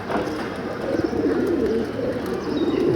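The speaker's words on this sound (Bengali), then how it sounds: "কবুতরগুলো বৃষ্টিতে ভিজছে" Pigeons out in the rain coo softly and continuously, a low murmuring of several birds close by with a steady background hiss.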